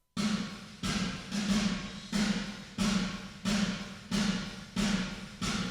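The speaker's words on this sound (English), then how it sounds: "The two reverbs together sounds like this." Drums processed with two reverbs together play a steady pattern of punchy hits, each trailing into a dense room wash, loud and alone without talk.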